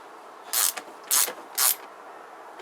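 Three short, loud bursts of ratchet clicking, evenly spaced with pauses between, as a ratchet tightens the rear shock bolts on a Kawasaki GPZ500S motorcycle.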